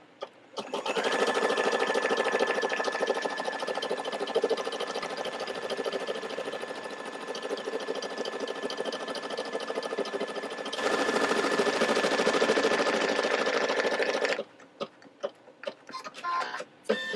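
A Brother LB5000 Star Wars sewing and embroidery machine stitches an embroidery design, a fast, steady mechanical whir and rapid ticking that runs for about fourteen seconds, then stops into scattered small clicks.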